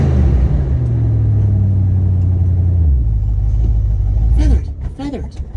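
An old Plymouth SUV engine rumbles and revs steadily at close range, a deep low drone that drops off near the end as people talk over it.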